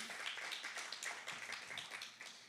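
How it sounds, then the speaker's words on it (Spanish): Church congregation clapping for God, a steady wash of many hands applauding at a distance, faint and continuous without a clear beat. "Démosle un fuerte aplauso a Dios por la vida de ellos"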